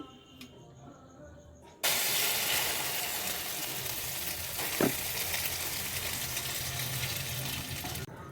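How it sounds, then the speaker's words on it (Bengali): A Maggi omelette fries in a hot frying pan, and a loud, even sizzle starts suddenly and continues steadily, broken only by one brief clink partway through. "এখানে দেখতে পাচ্ছ আমার ফ্রাইং প্যানটা গরম হয়ে গেছে তো এখন আমি এটা ভেজে নেবো"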